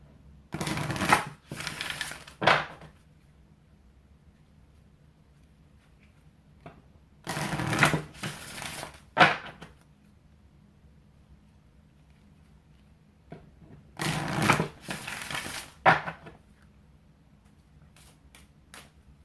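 A deck of Angel Therapy oracle cards is shuffled three times in quick riffling bursts, each a couple of seconds long, separated by near-silence.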